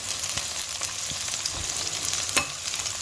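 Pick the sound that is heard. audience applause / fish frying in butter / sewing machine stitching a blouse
fish frying in butter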